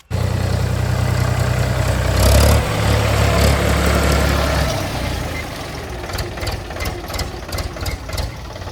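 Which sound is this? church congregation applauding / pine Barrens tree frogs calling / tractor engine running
tractor engine running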